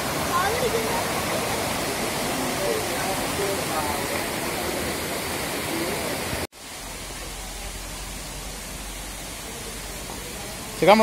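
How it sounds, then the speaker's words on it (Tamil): Water rushing along a hillside village channel, a loud, dense, steady roar close by that cuts off abruptly partway through, leaving a quieter low background with a brief bump at the end. "வாய்க்கால் மாதிரி தண்ணி அங்கே போகுது"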